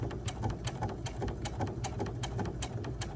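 A sewing machine stitching the last side of a fabric bookmark, running steadily in a fast, even rhythmic patter at close range with no talk.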